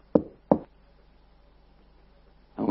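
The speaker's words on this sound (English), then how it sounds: "So he knocked at the door." Two quick knocks on a door, sharp and close, followed by a pause and a third knock starting at the end in a quiet room.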